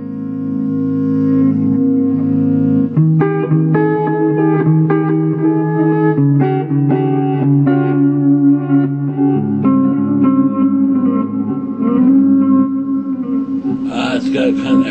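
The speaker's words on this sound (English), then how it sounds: "It's got kind of that reverb-y, reverse reverb type sound." Sustained harmonic instrument tones through a TC Electronic Flashback 2 delay pedal's reverse reverb effect wash together under heavy reverb, with swelling, smeared notes that blur into each other, and a brighter burst near the end.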